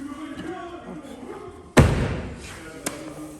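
A single heavy thud as the door of a BMW E36 turbo is slammed shut, close and loud after quiet background murmur, followed by a fading rattle and one small knock.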